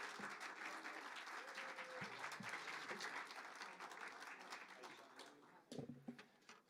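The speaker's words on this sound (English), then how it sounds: "Let's give a huge round of applause to Rabbi Yossi Rosenblum" Applause from an audience at a Jewish education variety show, faint and distant, with scattered claps and a murmur of voices running underneath throughout.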